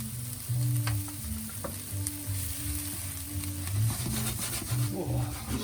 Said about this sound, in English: So just kind of toasting those spices, isn't it, really?